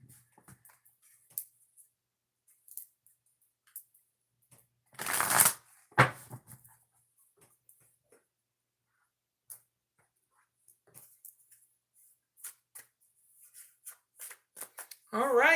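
Cards are shuffled with a brief riffling burst, followed by scattered soft taps and slides of cards being handled close by.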